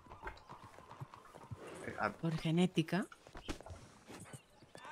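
Horse hooves clip-clopping in Red Dead Redemption II, a faint irregular patter of steps under voices talking in the middle of the stretch.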